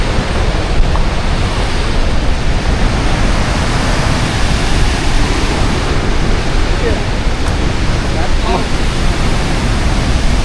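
Mallalli waterfall in Coorg pours in a dense, unbroken roar of falling water, loud and close throughout, with wind buffeting the microphone.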